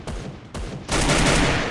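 Gunfire in the battle-royale video game Free Fire: two short loud bursts of shots followed by a sustained heavy volley of rapid fire, loud and close.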